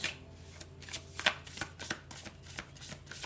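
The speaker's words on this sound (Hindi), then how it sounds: "तो चलिए शफल कर लेते हैं।" Tarot cards are shuffled close up in a run of soft, rhythmic riffling flutters and taps, quiet and steady.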